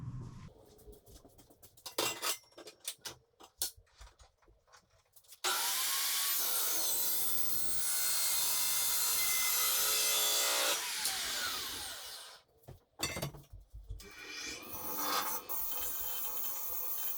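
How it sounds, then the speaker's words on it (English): A 12-inch disc sander grinds down the end of an 8-inch steel pipe, a loud sustained abrasive rasp of about seven seconds, framed by scattered clanks and handling knocks before and after. "got my 8-inch piece of pipe and cleaned it up on the 12-inch disc sander"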